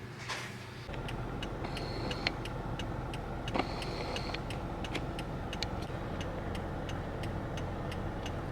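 Car driving along a road, a steady low engine and road hum running continuously with faint rhythmic ticking, such as a turn signal, recurring over it.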